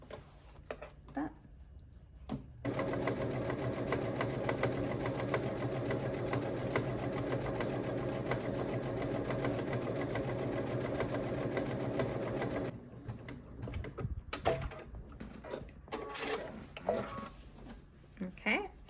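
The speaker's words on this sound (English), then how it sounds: "Let me go ahead and sew the lining first." A sewing machine stitches the lining of a quilted Christmas stocking, running in one steady, fast, even whir for about ten seconds, then stopping, with a few faint handling clicks and rustles before and after.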